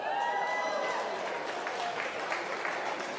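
Audience applause at a sports hall of fame induction ceremony, a steady, moderately loud patter of many hands with a few voices calling out underneath.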